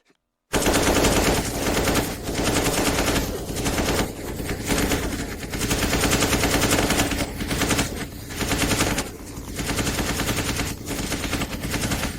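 Modern rifle fire roars continuously in rapid automatic bursts, loud and dense for about twelve seconds after a brief silent start.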